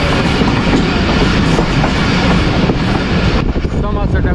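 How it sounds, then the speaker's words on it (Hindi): Shalimar Express pulling out of Samasata station in Pakistan, a loud, steady rumble of rolling wagons with rhythmic clickety-clack over rail joints that continues throughout, with a brief squeal near the end. "समरसका से हमारी रवानगी, शालीमार एक्सप्रेस की रवानगी"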